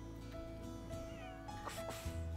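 A cat gives a short, faint meow close by in a quiet indoor setting, with a low background hum and no talking.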